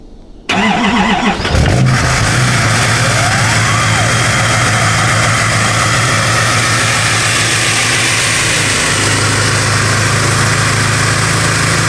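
An old 6.5 liter turbo diesel engine is started in extreme cold: a brief crank, then it catches and settles into a loud, rough, steady diesel idle, heard up close with no talk.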